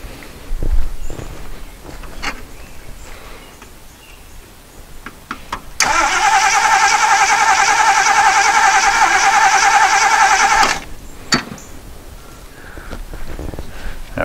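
A 1977 Jeep CJ-5 that sat for ten years, cranking on carb cleaner: a starter whirs loudly and steadily for about five seconds, stops, then a shorter crank follows, with a few clunks and footsteps around it.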